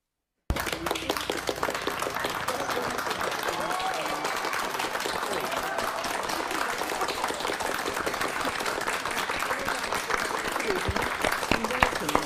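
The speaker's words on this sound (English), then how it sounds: "that totally deserves a huge round of applause" Sustained audience applause fills an awards ceremony hall for a netball champion award, dense and steady clapping from a large crowd, close and loud throughout.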